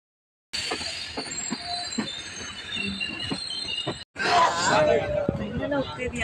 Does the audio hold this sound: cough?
no